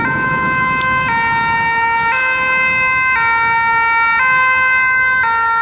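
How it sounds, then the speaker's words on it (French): Emergency siren of an ambulance or police vehicle passing through Paris on a Sunday evening near a park, a loud steady two-tone wail alternating pitch about once per second with traffic rumble beneath. "il y a l'ambulance, la police."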